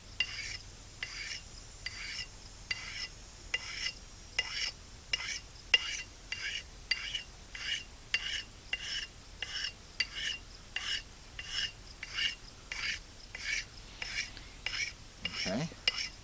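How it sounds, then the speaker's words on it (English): Axe edge being stropped after sharpening on a stone, a quiet, steady series of rhythmic rasping strokes, roughly one per second, close up with no talking. "So now we flip it. We strop it."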